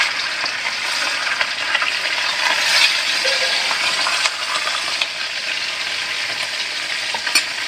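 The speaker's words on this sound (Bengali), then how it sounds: "এখন এই টাকি মাছগুলো একটু ভালো করে বাজ্যা আছি" Taki fish fry in a pan for a fish bhorta, a loud, continuous close-up sizzle with crackling bursts and a faint clink or two, with no voices.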